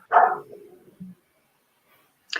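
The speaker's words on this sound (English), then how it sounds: "That's your dog barking in the background." A dog barks once in the background, a short sharp yap that trails off, then a faint brief follow-up sound before quiet returns.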